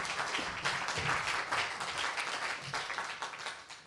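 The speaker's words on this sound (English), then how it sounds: "Again, another applause. Round of applause." A round of audience applause at a talk on California native peoples, moderately distant and somewhat quiet, steady clapping that gradually tapers off.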